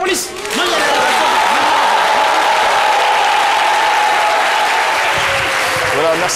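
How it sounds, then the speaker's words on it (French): Sustained applause from a live audience at a French comedy and variety show, loud and dense from start to finish, with voices mixed into the clapping. "merci de féliciter en applaudissements Dr Philo"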